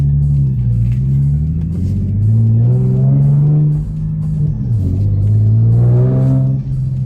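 An Infiniti G37 with a 6-speed manual and aftermarket exhaust, heard from inside the cabin, revs repeatedly, its deep droning exhaust note swelling and falling in steady pulls, loud and close throughout.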